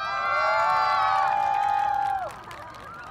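An outdoor riverside busking crowd on the Han River cheers and whoops loudly, with a long high sustained shout rising over the crowd before fading into scattered cheering.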